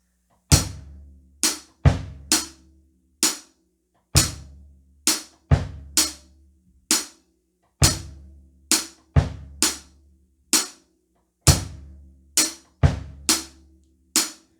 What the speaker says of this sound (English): we're going to take just the bass drum and the hi-hat and we're going to slow it way down